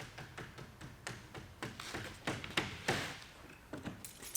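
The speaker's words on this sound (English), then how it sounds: "Use our belt molding installation tool to knock it down into place." A belt molding installation tool knocks an upper support down into place on a homemade aerial lift, a series of about a dozen sharp, close taps in an uneven rhythm, some louder than others, with no talking.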